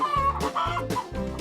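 Chickens on a farm cluck in three close, loud bursts, short throaty calls in quick succession with no voices.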